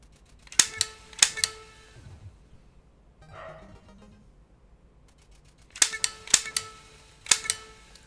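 Zapper gunshots from the NES game Duck Hunt ring out in quick clusters of two or three sharp, loud blasts, separated by a quieter game sound in the middle.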